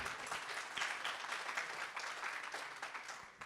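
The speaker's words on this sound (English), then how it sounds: "Round of applause for the guy." Applause from a live audience at a startup talk, a steady dense patter of many hands clapping throughout at moderate distance, with no talk over it.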